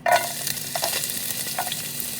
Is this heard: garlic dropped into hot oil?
yes